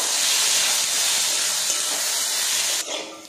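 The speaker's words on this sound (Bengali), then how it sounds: "এবারে এগুলো নাড়াচাড়া করে ভেজে নেব।" Diced potato and carrot fry in a pan with salt, giving a loud, steady hiss that eases off near the end.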